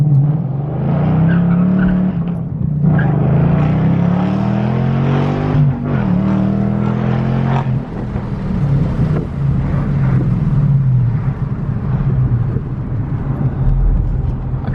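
S197 Ford Mustang launching hard, its engine roaring through rising revs with shift breaks while the tires squeal and skid, loud and close throughout.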